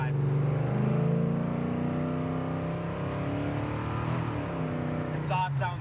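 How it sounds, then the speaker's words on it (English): 1969 Chevy Camaro pro touring car engine revving through its exhaust, a deep rising and falling roar held close, with brief voices at the end. "Exhaust sounds good."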